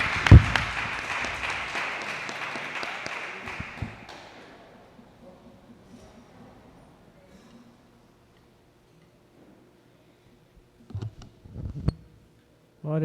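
A church congregation claps during a live worship service, a burst of dense rhythmic clapping that fades over several seconds into near quiet, followed by a few faint knocks and thumps.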